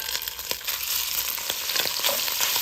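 Sausage sizzles loudly in a hot skillet with rendered bacon fat while being broken up for Zuppa Toscana, a dense steady crackle with occasional scraping stirs, close and continuous without talk.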